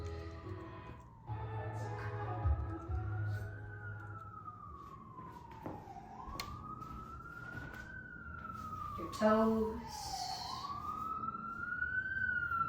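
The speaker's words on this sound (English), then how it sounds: "Please ignore the New York City siren in the background." A wailing New York City emergency siren rises and falls repeatedly in the distance, steady under faint city noise, with a brief spoken remark near the start.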